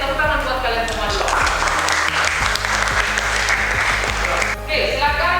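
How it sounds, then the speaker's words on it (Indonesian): A classroom of students applauding during a teaching session, a dense burst of clapping lasting several seconds between stretches of a teacher speaking, close and fairly loud. "Jadi tepuk tangan buat kalian semua dulu."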